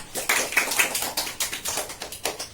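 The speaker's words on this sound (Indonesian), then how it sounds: "Kita tepuk tangan untuk kita semua." Primary school pupils clapping together in a classroom, a rhythmic sequence of sharp, evenly spaced claps in unison, close and moderately loud with no talk over it.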